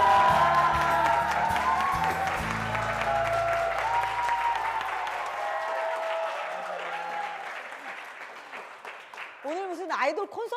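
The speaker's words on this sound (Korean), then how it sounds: "박수" An audience at a Christian school testimony event applauds steadily for several seconds, with voices talking over the clapping as it fades.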